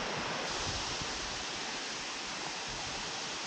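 Hérisson waterfalls pour in a steady, even wash of rushing water, constant and moderately quiet throughout, with no voices.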